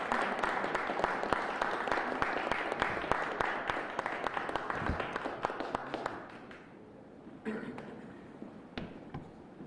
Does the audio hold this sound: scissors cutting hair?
no